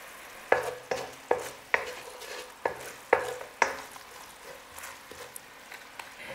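A spoon stirs a sweet and sour pad thai sauce with chili powder in a pan, producing a series of distinct scraping clinks at a steady rhythm over a soft background.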